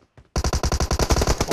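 Rapid automatic gunfire in PUBG Mobile on the Erangel map, a loud close burst of about a dozen evenly spaced shots after a brief quiet moment, with no talking.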